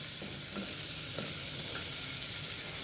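Ginger, a small piece, garlic cloves and roughly cut onion sauté in melted butter in a pan for paneer butter masala, with a steady close sizzle and a few scraping stirs, no talking.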